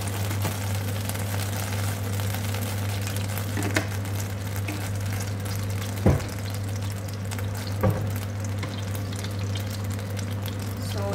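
Oil sizzles steadily in a frying pan while potatoes cook, a loud continuous crackling hiss with a few brief sharper pops rising above it and no talk.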